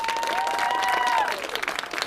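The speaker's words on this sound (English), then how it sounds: "Can I get a round of applause for Hugh Dancy?" An audience at an interview event for Hugh Dancy bursts into dense, steady applause with some cheering voices on top, tapering slightly toward the end.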